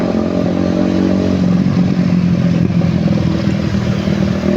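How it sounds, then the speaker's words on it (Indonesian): A motorcycle with a loud, raspy aftermarket exhaust idles and putters nearby, a constant throbbing drone with rattling clatter and no talking. "Sebel banget kalau misalnya di jalan ada yang pakai knalpot brong gini nih"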